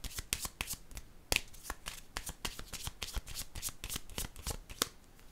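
Tarot cards are shuffled and laid down in a steady run of crisp, close riffling and flicking taps, with one sharper slap midway, and no voice over it.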